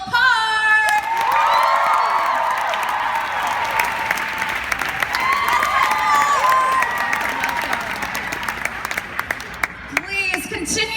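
Enthusiastic clapping, cheering and whoops from a fan crowd at a BroadwayCon 2017 Dear Evan Hansen panel, loud and continuous with high excited shouts rising over it.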